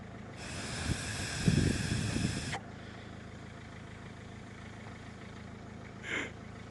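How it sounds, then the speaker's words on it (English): Air blown by mouth through a stuck-open thermostat from a Renault 1.5 dCi engine, a close, breathy rush lasting about two seconds, followed by quiet and a brief faint puff near the end. "if I blow here I can clearly hear the air coming out."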